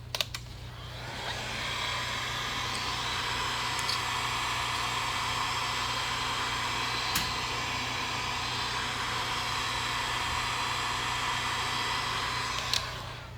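Heat gun on low heat warming a headlight to soften its Permaseal sealant, a steady close airy blowing hiss that holds evenly for over ten seconds, with a few faint clicks and no talk.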